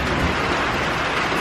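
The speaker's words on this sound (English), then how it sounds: "You can hear the thunder in the distance." Steady rain pours in an outdoor setting in the Carolinas during a stormy day, a dense, continuous hiss close by with a low rumble underneath that fits thunder far off.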